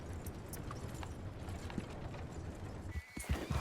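A horse in the video game Red Dead Online trots with rhythmic clip-clop hoofbeats, faint and steady, followed by a short whinny near the end.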